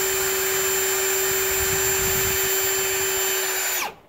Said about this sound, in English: when you're drilling in this plastic, go slowly.